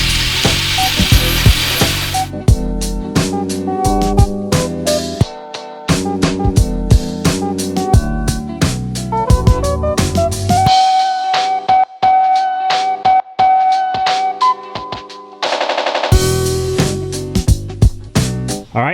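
A power tool strips rust from a car body panel during a restoration, whining loudly with shifting pitch, frequent brief stops and restarts, and scraping clicks.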